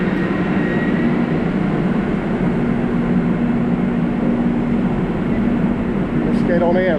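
Interior rumble of a moving passenger train, a steady low drone with a faint hum, continuous and fairly loud throughout, with a brief chirp of chimes or squeaks near the end.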